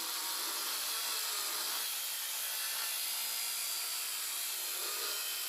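Polishing wheel from a 3M headlight polishing kit buffs compound onto a cloudy car headlight, giving a steady, even whirring hum with a faint rubbing texture, continuous and unbroken, with no talking.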